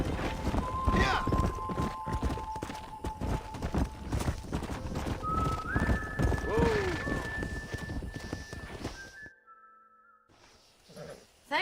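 Horse hooves galloping in the Red Dead Redemption video game, a quick rhythmic clatter under game music and occasional speech, with a whinny partway through before fading out near the end.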